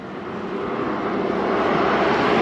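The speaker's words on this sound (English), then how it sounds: "But I guess electric motors do make noise." A 750-watt electric motor on an eAhora X5 Plus e-bike runs steadily during a ride, making a broad, loud whirring drone with rushing air noise that builds slightly and continues without pause.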